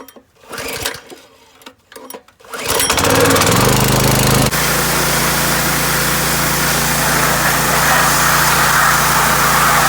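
A small pressure washer engine starts with a few sputters, then runs loud and steady at a constant high-pitched drone, close by and alone.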